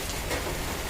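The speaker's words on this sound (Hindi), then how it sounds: "बहुत अच्छी बारिश हो रही थी" Steady, dense rain falls outdoors at a snowy home, a continuous close hiss of drops on surfaces filling the whole moment with no voices.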